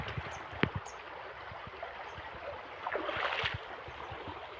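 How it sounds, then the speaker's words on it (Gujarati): River flowing beside a farm field, a steady broadband rush of water with soft splashing and a few brief knocks, swelling slightly louder toward the middle before settling back. "આ રહી આપણી નદી"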